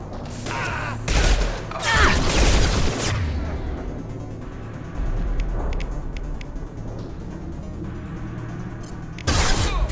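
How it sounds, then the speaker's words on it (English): The concussive shot ability fires in Mass Effect Legendary Edition amid combat: several loud bursts of blasts and crashes, separated by quieter mechanical stretches and faint clicks, with one more burst at the end. "Concussive shot ready"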